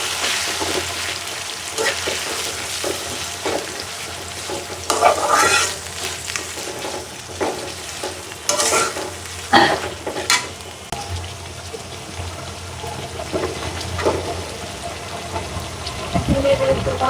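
Ginger paste sizzles and gets stirred through frying onion and garlic, a close crackling hiss with irregular scraping bursts from the stirring spoon and occasional faint voice in the background.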